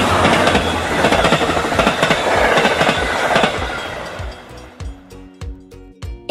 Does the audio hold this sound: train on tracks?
yes